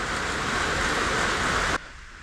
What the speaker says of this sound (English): It is raining the whole day long now.